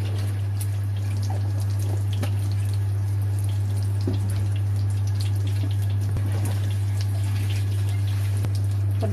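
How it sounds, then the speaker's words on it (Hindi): Water runs steadily into a bowl of cornflour while making gola kabab, a soft continuous trickle and splash over a strong low electrical hum, with no talking. "अभी कॉर्नफ्लावर में पानी डालेंगे।"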